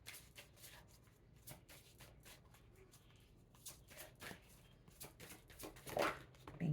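Tarot cards shuffled by hand in a quiet room, a soft run of riffling flicks and slides repeating at a steady pace, then a louder snap near the end as a card is drawn.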